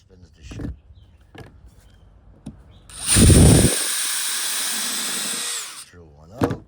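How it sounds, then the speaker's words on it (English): A power drill drills out a brass screw in plywood on a cheap door: a loud whining burst with a heavy initial grind lasting about three seconds, preceded by scattered clicks and handling noises. "Drill one out."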